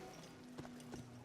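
Horse hooves in a scene from a fantasy TV drama: two faint, separate hoof strikes over a quiet, steady background hum.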